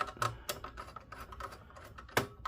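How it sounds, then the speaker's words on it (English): A screw clicks as it turns loose from the heatsink of a Dell OptiPlex 3050 desktop, a few sharp, close ticks spaced irregularly against a quiet background. "you hear it clicking. That's how you know the screw's all the way out."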